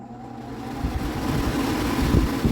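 An old furnace blower motor spins up from a faint hum into a loud, steady whooshing rush of air that keeps building slightly and turns gusty and rumbling near the end.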